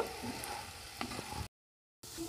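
Chicken chow mein being stirred in a frying pan, a steady close sizzle with a few scraping utensil knocks, cut by a short silent gap before the frying resumes; no one speaks.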